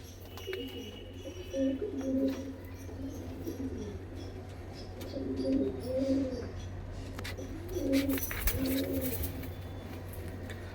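Pigeons coo nearby in repeated soft, low rolling phrases, several bouts spaced a few seconds apart over a steady background hum, with occasional faint chirps and a brief rustle.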